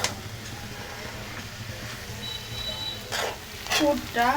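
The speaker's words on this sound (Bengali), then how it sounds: "আমি একটু ভেজে নিচ্ছি" Ingredients frying in a pan for morog sangsar pitha, with a soft sizzle and stirring scrapes throughout, a few brief clinks and a voice speaking near the end.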